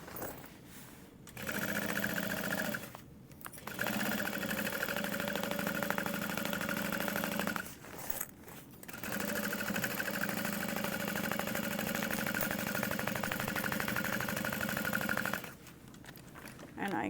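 A sewing machine runs in long steady bursts, basting all the way around the layers of a Dreamer Pack mini backpack, stopping briefly between passes; its close, even mechanical whir fills most of the stretch.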